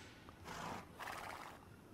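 A horse in the video game Age of Empires II: Definitive Edition neighs twice in quick succession, a breathy whinny rising and falling, moderately loud over faint background noise.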